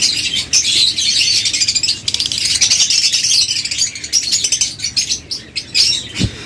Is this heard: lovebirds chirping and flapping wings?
yes